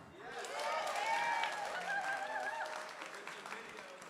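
Audience applause at a retrospective event, a moderate, steady patter of many hands that swells early and holds, with voices and cheers mixed in.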